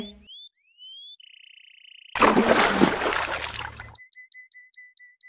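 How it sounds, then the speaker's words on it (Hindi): A cartoon crow tumbles into the sea, a loud splashing gush of water after chirpy whistles and boings, trailing off into small watery drips and a steady tone. "राजू कौवा तो समुंदर में गिर गया है"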